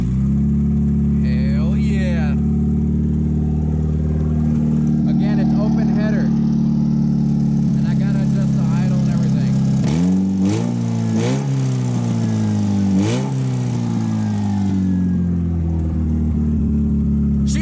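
A Toyota MR2 with a swapped 7AGE engine cranks and catches, then settles into a steady, fast idle with a few blips of revving. The engine stays loud and close throughout, with a voice speaking over it.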